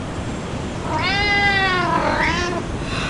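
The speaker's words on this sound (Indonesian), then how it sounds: "Seekor kucing?" A cat gives one drawn-out, wavering meow and then a shorter one, both close and clear over a steady background hiss.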